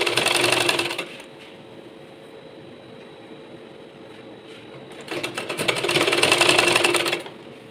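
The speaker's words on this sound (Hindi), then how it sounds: "आपके सामने मैं सिल कर दिखाऊंगी।" A sewing machine stitches a sleeve joint on a garment, running in two loud, steady bursts at the start and end with a quieter mechanical hum between them.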